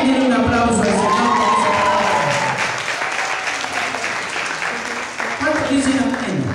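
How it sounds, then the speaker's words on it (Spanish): Congregation applauding and cheering at a Christian revival congress service, a full crowd clapping steadily throughout with shouts, whoops and voices rising over it, plus a brief dip near the end before clapping swells again. "Alguien tiene un aplauso al Señor."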